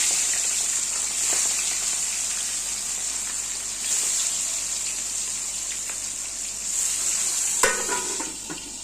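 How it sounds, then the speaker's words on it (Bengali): Fish fries in hot oil with a loud, continuous, close sizzle, broken by occasional sharper spits and pops as the oil spatters, the strongest burst coming near the end. "এই মাছ কিন্তু ভীষণ ফোটে। শুরু হয়ে গেল ফোটা"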